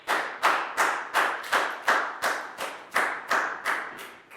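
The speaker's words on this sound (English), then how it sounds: "High five and a big round of applause for Stu" A small classroom group claps for a student in about ten evenly spaced, sharp bursts, close and fairly loud with no talking over it.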